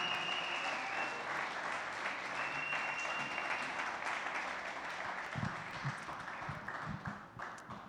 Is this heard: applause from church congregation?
yes